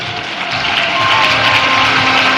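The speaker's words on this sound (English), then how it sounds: "all of you to clap in appreciation" Applause from a large audience at a political party manifesto launch rally, a steady, dense wash of clapping with some crowd noise that swells slightly and holds loud throughout.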